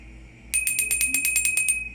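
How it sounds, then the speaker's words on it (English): A small bell is shaken rapidly, about a dozen bright metallic rings in quick succession after a quiet start, loud and close with no talking. "Bells, wind chimes."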